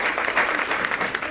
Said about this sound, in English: Let's give our sponsors and our partners a round of applause and thank them.